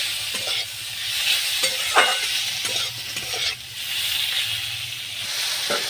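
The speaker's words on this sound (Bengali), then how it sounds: "কচি লতিগুলো দিয়ে দিচ্ছি দিয়ে ভালো করে কষে নেব" Young taro stolons sauté in a pan with a steady, loud sizzle, broken by repeated scraping stirs of a spoon across the pan.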